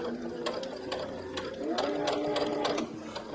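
Close-up sewing machine runs steadily while stitching bias tape closed along the neckline of a circle top, giving a quick rhythmic whir and needle clatter that briefly speeds up midway, with no talking.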